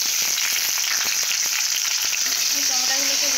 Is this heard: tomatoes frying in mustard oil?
yes